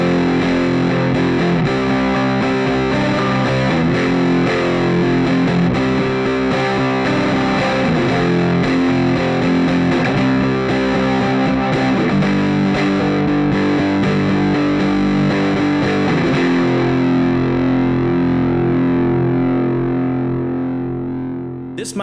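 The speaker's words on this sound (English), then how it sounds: "my Hughes & Kettner Tubemeister 36 into a Marshall 15-inch cab, and that is an old Celestion 15-inch greenback" Distorted electric guitar played through a Hughes & Kettner Tubemeister 36 amp into a Marshall 15-inch cab with an old Celestion greenback speaker, miked slightly off the cone's center. Loud, steady chords and riffs ring on for about twenty seconds, with no talking.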